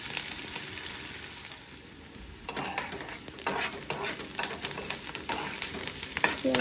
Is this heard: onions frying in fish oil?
yes